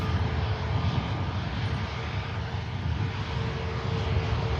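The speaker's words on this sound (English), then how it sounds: "Logan Air is lining up next, I think. Yeah, Logan Air. Lining up for Newquay." A Logan Air aircraft lining up on the runway at Manchester Airport for a flight to Newquay, giving a dense, even engine rumble and hiss with faint steady tones, loud and unbroken.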